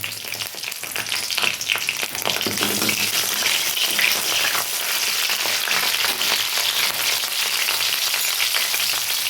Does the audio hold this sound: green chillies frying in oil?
yes